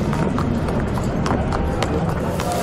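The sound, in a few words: horses walking from stables to beneath grandstand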